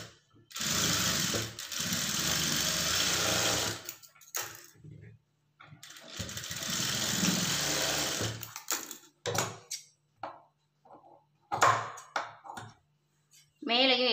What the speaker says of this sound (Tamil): இதில் கரெக்டாக இந்த மாதிரி நேராக வந்து மடிச்சுட்டு நேர் தையல் போட்டுக்கலாம்.